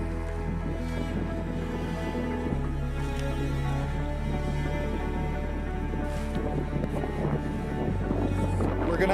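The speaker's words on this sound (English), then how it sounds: "It's way too windy here." Steady, loud wind roars and buffets the microphone throughout, a constant low rumble with gusty rushes and no pauses.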